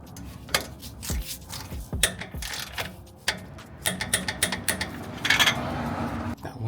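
A wrench with a deep socket ratchets on exhaust bolts of a Magnaflow Overland Series system on a Lexus GX460, giving close, crisp clicking bursts and metallic taps in irregular spurts, with no talk.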